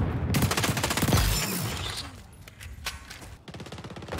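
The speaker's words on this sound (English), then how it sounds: "I shouldn't have shot yet." Automatic weapon fire in the online shooter XDefiant, loud rapid bursts at the start and again near the end, with a quieter stretch of game noise between.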